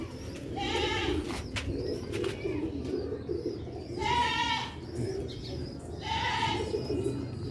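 Old Sialkoti breed pigeons, a paired couple, give three separate throaty cooing calls at even gaps over a steady murmur of background noise, with no talking.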